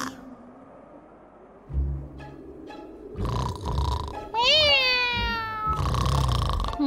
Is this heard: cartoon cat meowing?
yes